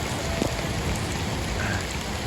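Steady rain pours down in a dense, even hiss on a much-needed rain day, with no voices and no breaks across the short stretch.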